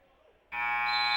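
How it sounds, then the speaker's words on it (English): At a high school varsity wrestling match, a loud electronic buzzer cuts in abruptly after a brief quiet moment and holds a steady, harsh tone to the end. "that time the buzzer sounds"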